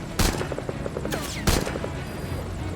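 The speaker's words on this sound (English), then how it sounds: "173 meter headshot" A sniper rifle fires in Metal Gear Solid V: Ground Zeroes, two loud close cracks about a second apart over a constant droning game background, ending in a headshot.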